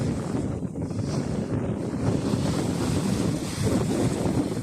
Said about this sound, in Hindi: हवा भी माशाल्लाह तेज़ चल रही है, बिल्कुल समुद्र के ऊपर